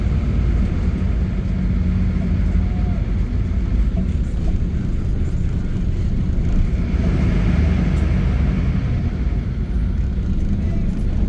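Steady low engine drone and broadband road noise from a Jakarta–Pekalongan intercity bus reversing while parking, continuous and fairly loud throughout with no clear talk.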